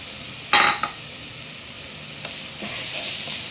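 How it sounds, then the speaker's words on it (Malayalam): Coriander powder, pepper powder, garam masala and turmeric stirred and sautéed in a hot pan, a soft sizzle with a sharp scrape of the spoon near the start and brief stirring clatters, no talk. "ഇതൊന്ന് വഴണ്ട് കിട്ടുന്നിടം വരെ ഒന്ന് നമുക്കൊന്ന് ഇളക്കിയെടുക്കാം"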